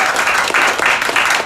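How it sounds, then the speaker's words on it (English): Audience at a comedy show in a Washington DC bar gives a burst of applause, dense continuous clapping filling the room for a moment. "give you a big round of applause"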